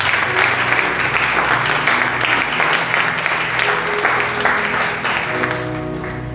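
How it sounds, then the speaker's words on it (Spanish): Sustained, loud applause from a church congregation fills the room steadily for several seconds, easing slightly toward the end as a low musical tone lingers underneath. "Denle un fuerte aplauso a Dios."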